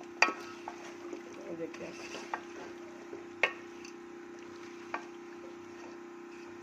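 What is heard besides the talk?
potatoes, peas and masala being roasted in a pot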